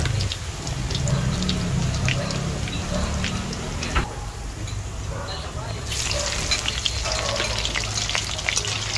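Ginger fries in cooking oil in a pan with a continuous crackling sizzle, heard close up. A voice talks faintly over parts of it and there is some clatter.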